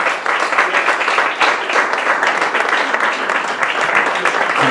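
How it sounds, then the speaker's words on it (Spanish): An audience applauds, with dense, continuous clapping from many hands filling the room at a steady, loud level. "Entonces se va a hacer un monólogo que le vamos a dar paso a Manolo con un aplauso."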